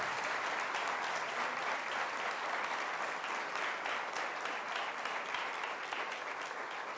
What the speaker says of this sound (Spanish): Fuerte el aplauso. Denle fuerte aplauso al Señor.